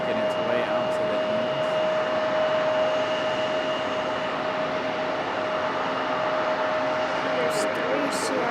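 Aeromexico jet airliner taxiing at Raleigh-Durham International Airport, a steady distant engine whine and broadband roar holding at an even level throughout, with a faint constant tone above the rumble.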